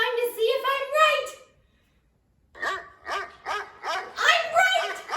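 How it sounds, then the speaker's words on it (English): A dog barks in quick repeated bursts, close and fairly loud, with a whimpering or yipping edge; a short pause splits the sequence, and the barking resumes as a steady run of several sharp barks. "And it's a dog on top of a dog!"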